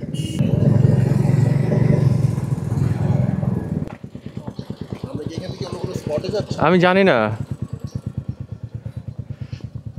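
A group of about thirty Royal Enfield motorcycles rides together on a road in Bangladesh, a loud rumble of engines passing at first, then a close single engine's steady thumping idle with a brief rev as someone talks.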